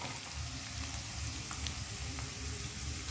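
Chopped onion sizzles steadily in a pan with garlic and ginger, a continuous soft frying hiss without pauses.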